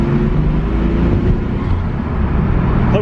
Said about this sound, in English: Hopefully you can hear the blow-off valve.